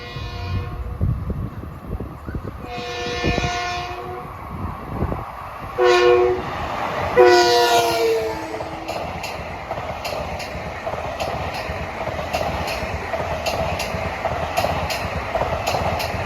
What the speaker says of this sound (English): approaching Islip Avenue at 6:15 is train 1964, Penn Station to Ronkonkoma